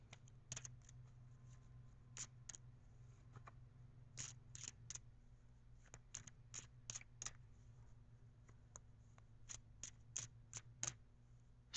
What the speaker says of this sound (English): Shuffling the cards always gives me a nice, relaxed feeling for some reason